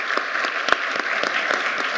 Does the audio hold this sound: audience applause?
yes